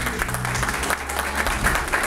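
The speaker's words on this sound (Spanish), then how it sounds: "quiero pedirles sobre todo un especial y fuerte aplauso" Guests at Karen's quinceañera party break into sustained applause for her and her family, a dense wash of clapping that runs steadily throughout over a low background hum.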